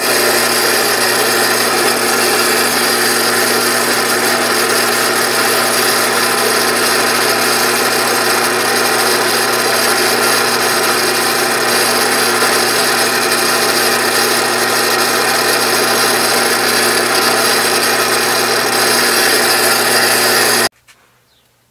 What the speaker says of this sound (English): I'll drill a hole in the end of each end